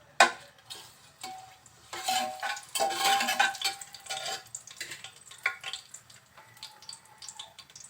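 Whole garam masala and two bay leaves fry in hot oil for a desi chicken curry, giving a sizzle broken by sharp clinks and scrapes of stirring, loud at first and then easing into a softer crackle, with no talk.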